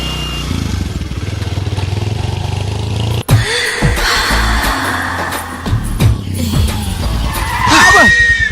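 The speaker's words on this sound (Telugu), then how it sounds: "అదేంటండి అన్సడన్ బ్రేక్ వేశారు?" A vehicle brakes suddenly with a loud skid. A sharp crunch cuts in partway through, followed by engine and rumbling noise and a rising squeal near the end, all loud and close.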